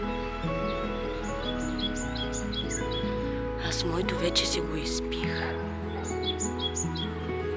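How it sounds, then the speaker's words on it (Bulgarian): Birds chirp outdoors in Izu Granpal Park in Japan, their short, repeated high calls fairly faint beneath a person talking nearby and a steady background hum. "Чувате ли птичките?"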